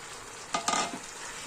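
Cauliflower for chilli cauliflower is stirred and fried in a pan, with a steady broadband sizzle and a couple of brief scraping stirs near the middle, close and fairly loud, with no talk.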